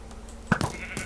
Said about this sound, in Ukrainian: Вау, подивіться на цю вівцю.